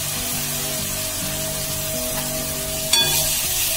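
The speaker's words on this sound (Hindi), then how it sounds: "थोड़ा सा प्याज भुने दीजिए।" Sliced onion sizzling and frying in hot oil in a pan, ahead of adding ginger-garlic paste, for a Maharashtrian patodi rassa curry; a steady close sizzle with a brief stir or clatter near the end, no talking.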